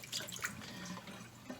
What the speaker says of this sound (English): feels silly pouring all this distilled water down the drain